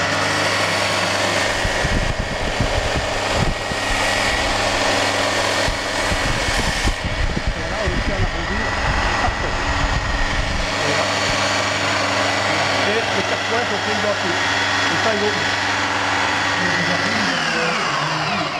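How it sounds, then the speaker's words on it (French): An electric sander whirs steadily and fairly loud throughout, with a brief burst of rougher noise partway through, running alone without talk. "Donc je vais actionner la ponceuse"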